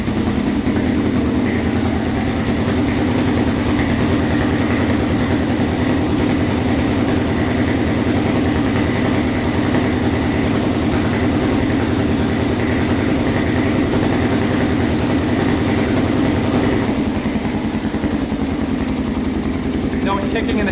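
A 416cc big bore Honda 400EX ATV engine idles steadily with a deep, even rumble throughout, close and loud, with a slight change in tone near the end.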